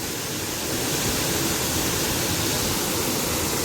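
Steady broadband rush of river water flowing along the Mirna in Istria, continuous and fairly loud with no voices, like a stream or small waterfall close by.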